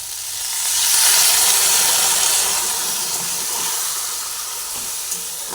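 A little water splashes into sizzling okra in a hot pan, setting off a loud burst of hissing steam that swells and then settles into a steady, close sizzle.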